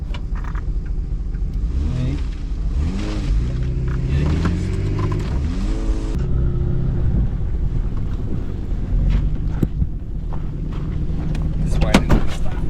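A car stuck on the salt flats spins its wheels, the engine revving loud and continuous with rising and falling pitch sweeps and heavy wind buffeting over the microphone.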